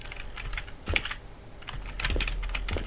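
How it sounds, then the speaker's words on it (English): A video game's typing sound effect: a steady run of quick, crisp keyboard clicks for about three seconds, close and clear with no voices over it. "I like that it had the little typing noise for it though."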